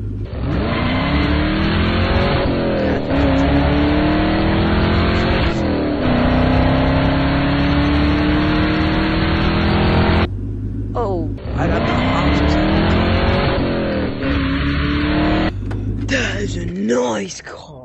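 A sports car's engine revs loudly and steadily in a VR racing game, rising pitch sweeps repeating with brief dips, while a person talks over it.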